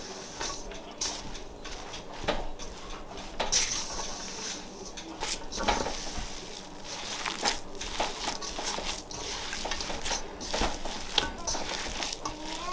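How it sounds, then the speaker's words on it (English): Homegrown potato dough with garlic powder being mixed by hand, soft squishing and crinkling sounds at close range, irregular and fairly quiet, with occasional sharper crackles. "I'm gonna mix this all together until it forms somewhat of a dough."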